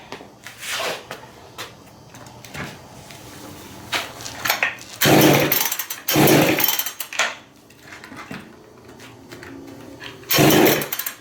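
A chainsaw fitted with an ignition coil from a Nissan Maxima gives several short bursts as it is pulled over and briefly fires without fuel, loud pops separated by quieter handling noise.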